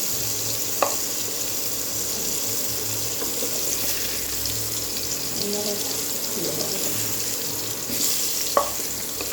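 Food fries in white oil in a home kitchen, a steady sizzle running throughout with a couple of sharp clinks of a utensil as the pieces are lifted out; a voice speaks faintly in the background.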